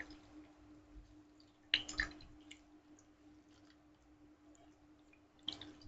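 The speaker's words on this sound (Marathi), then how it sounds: "ह्या काड्या अशा स्वच्छ धुवून पिळून घ्यायच्या आहेत" Washed colocasia stalks being squeezed by hand, with faint drips of water, a couple of wet squishing bursts and a few soft clicks over a low steady hum, very quiet and close, with no voices.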